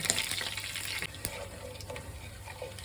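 Cumin seeds fry in hot oil for hog plum chitranna, giving a brief crackling sizzle with a stirring clink, louder at first and then settling.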